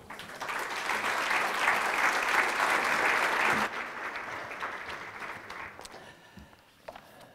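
An audience at a conference applauds keynote speaker James Cairns, dense sustained clapping for about three and a half seconds, then thinning and trailing off into scattered claps.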